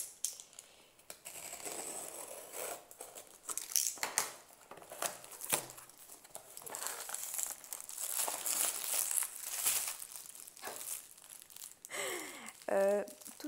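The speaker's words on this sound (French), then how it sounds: "Je vais couper le carton." Cardboard of a tightly packed diamond painting parcel being cut open, crinkling and tearing rustles with scraping cuts and crackles at close range, plus brief handling noises and a short voice-like sound near the end.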